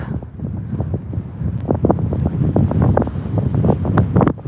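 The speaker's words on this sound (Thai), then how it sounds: "ลมพัด ลมพัดแบบนี้หนาวไหม" Strong, cold wind roars steadily, buffeting the microphone in rough gusts with no voices.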